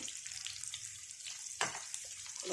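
Bitter gourds frying in a pan over low heat, a faint hissing sizzle with a couple of sharp stirring taps, quiet and close, without speech.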